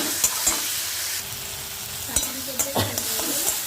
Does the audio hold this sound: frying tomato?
yes